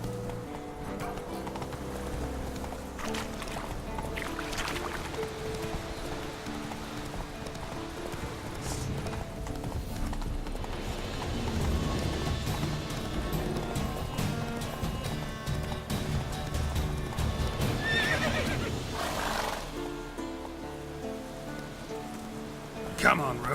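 Roach the horse gallops in The Witcher 3, a steady clip-clop of hooves running under a rain-like hiss and layered game music, continuous throughout with no clear neigh standing out.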